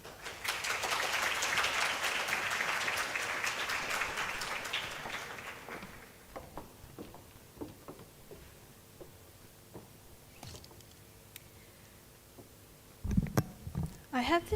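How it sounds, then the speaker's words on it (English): An audience greets speakers with a dense burst of applause that is loud for the first six seconds and then dies away into scattered claps, shuffling and a few faint sounds. "with a warm round of applause, please welcome Anarkali and Senali"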